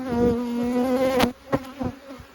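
Honeybees buzz loudly around an agitated hive in a bee yard, a close, sustained droning hum with individual bees zipping past.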